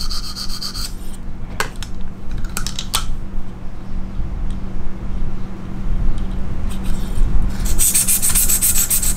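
Knife blade drawn across a stone on a KME sharpening system makes steady, close gritty rasping strokes, with a few sharper scrapes and clicks along the way.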